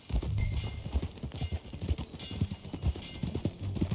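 Horse hooves clip-clopping at a steady trot in the video game Red Dead Redemption 2, close and continuous, over a low background rumble.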